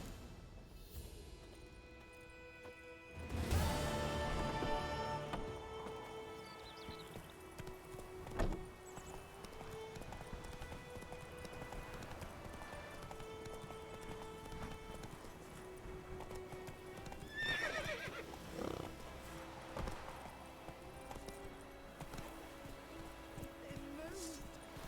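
Roach, the horse in the Witcher 3 video game, gallops with rhythmic clip-clopping hoofbeats and gives a loud whinny, mixed with game music and spoken dialogue.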